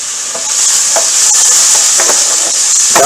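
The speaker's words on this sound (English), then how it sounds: "Get a stir going here." Curry turkey sizzles loudly and evenly in a pan, with a spoon stirring through it in repeated soft strokes over the constant hiss of frying.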